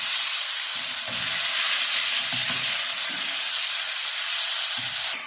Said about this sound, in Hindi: आपकी अब हमें इसको फ्राई करते हुए 3 मिनट्स हो गए।